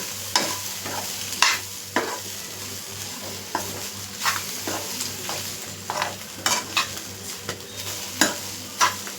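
Fish frying in a pan gives a steady close-up sizzle, broken by a series of sharp scrapes and clinks as it is stirred and turned, with no voices.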